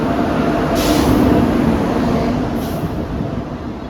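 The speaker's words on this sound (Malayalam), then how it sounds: "ഇപ്പോൾ ഏകദേശം ട്രെയിൻ എത്താറായിക്കണ്." Train pulling into Palakkad Junction railway station, a loud continuous rumble of wheels and carriages close by, with two short hissing bursts like air brakes over the din.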